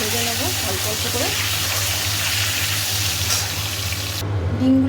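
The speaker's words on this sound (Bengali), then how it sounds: "এবার ডিমগুলোকে ভেজে নেব অল্প অল্প করে।" Eggs fry in oil in a pan, giving a steady, close hiss and sizzle with faint clinks, and a low hum runs underneath throughout.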